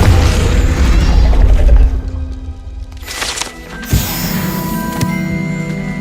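A Confringo spell explosion in the video game Hogwarts Legacy, a loud, deep boom that fades, then crackling debris and a sharp second burst near the end.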